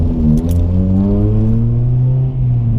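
Steady, loud droning engine note of a Honda Civic EP3 Type R with an M2 exhaust, heard from inside the cabin with the windows up during normal driving, holding a smooth continuous hum throughout.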